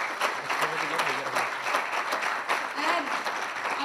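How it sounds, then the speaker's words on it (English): An audience claps loudly and continuously for talent contest performers, a dense, even wash of applause with some voices faintly mixed in. "First of all, a big round of applause."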